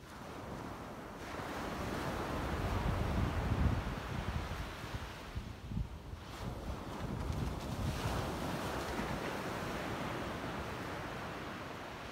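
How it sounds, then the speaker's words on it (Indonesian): Strong sea waves surge and wash continuously under steady rain and gusting wind on a coast, a loud, dense roar with no speech. "ini hujan guys, dan ombak juga sudah kuat"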